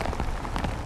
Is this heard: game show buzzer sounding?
no